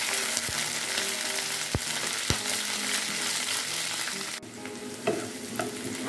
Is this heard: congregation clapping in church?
no